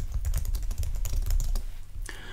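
Fingers type text into a computer keyboard while editing an online office document, giving a rapid, uneven run of close, crisp key clicks that stops briefly near the end.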